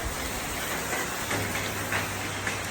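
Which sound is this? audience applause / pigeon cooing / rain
rain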